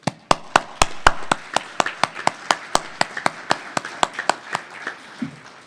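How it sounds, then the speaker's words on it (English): A crowd at an FDA patient-focused drug development meeting on SMA claps in an audience hall, with loud, sharp, evenly spaced hand claps over a faint wash of scattered clapping. "I want to give all of y'all a round of applause"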